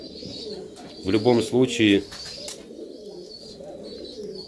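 Domestic pigeons and their young coo in three quick, throaty bursts close to the microphone, while someone speaks quietly before and after.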